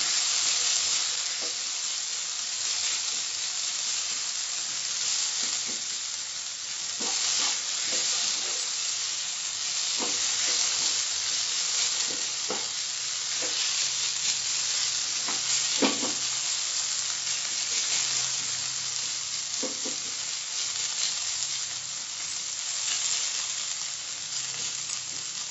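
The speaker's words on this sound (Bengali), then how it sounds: "এবার মাশরুম এবং ক্যাপসিকাম টুকরোটাকে ভালো করে নেড়ে দেবো। এটাকে 6 মিনিট ফ্রাই করতে হবে।" Mushroom and capsicum pieces stir-fried in a pan for a restaurant-style pepper fry, giving a steady close sizzle and hiss with intermittent scraping stirs throughout.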